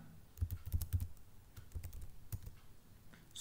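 Fingers type on a computer keyboard while entering C code, a quiet, irregular patter of close key clicks with a few brief flurries and pauses.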